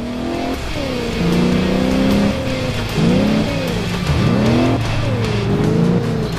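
Engine revving and shifting pitch as a car is driven in the video game Alarm für Cobra 11, loud and continuous with rising and falling tones and possible tire squeal, no talk.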